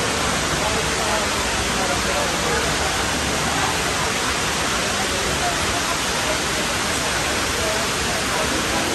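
An indoor waterfall fountain inside the Dubai Mall gives off a dense, continuous rush of falling water, loud and even from start to finish with no voices.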